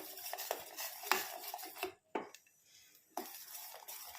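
A utensil stirs a turmeric powder and milk mixture in a pan, with repeated scraping and clinking strokes in quick rhythm, a brief pause, then more stirring, close and fairly quiet.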